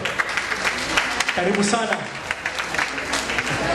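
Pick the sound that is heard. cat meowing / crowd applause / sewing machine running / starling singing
crowd applause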